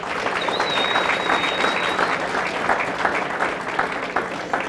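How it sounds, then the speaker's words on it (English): A crowd at a mayoral campaign kickoff rally breaks into sustained, loud applause, many hands clapping evenly with a faint whistle early on. "Let's show them our appreciation by giving them a round of applause"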